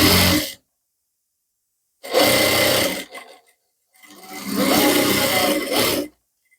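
A sewing machine stitches the edge of a blouse neckline in three loud, close bursts of steady whirring, separated by full silence.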